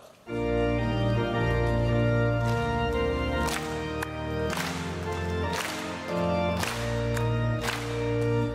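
A church congregation at a Wednesday prayer service claps in steady rhythm while singing a hymn with instrumental accompaniment, the sharp claps recurring regularly over loud, sustained music.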